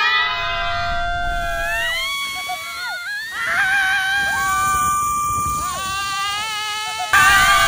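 Several people scream and shriek together on an outdoor adventure ride, with loud, wavering high-pitched voices rising and falling continuously, growing louder mid-way and again at the end.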